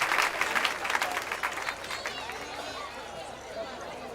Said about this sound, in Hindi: यहाँ दोस्तों जोरदार तालियां।